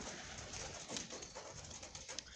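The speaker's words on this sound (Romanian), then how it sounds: "Când ne pleca de aici de lângă porumbei, cum vin la mâncare, au venit și vrăbile astea" Pigeons coo softly near a feeding spot outdoors, a faint, steady murmur of calls with light rustling and no talk.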